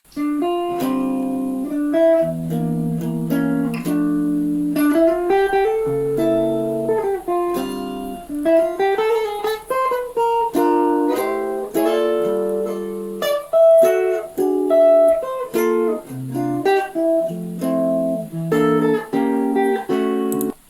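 A synthetic, MIDI-like rendition of a guitar solo plays alone, with quick melodic runs and plucked, slightly mechanical notes across about twenty seconds.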